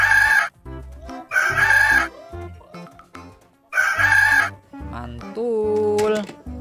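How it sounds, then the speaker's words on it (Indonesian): A rooster crows repeatedly in loud, bright calls separated by short pauses, mixed with toy-like synthetic tones and effects from a children's animal-sound toy or app. "Ayam jantan."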